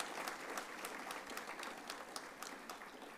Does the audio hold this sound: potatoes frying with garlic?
no